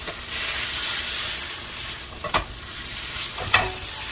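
A pot roast sears in a ridged grill pan with a loud, continuous sizzle and hiss, broken by two sharp clatters of metal against the pan.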